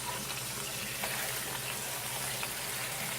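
Seasoned pot roast beef sears in a hot pan, a quiet steady sizzle with faint crackles throughout.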